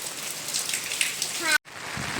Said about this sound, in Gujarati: જો અહીંયા વરસાદ ચાલુ છે